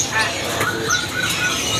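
A bimoli bird at a bird market kiosk gives short, thin chirps and whistled notes, a few scattered phrases over a steady hum of market background noise.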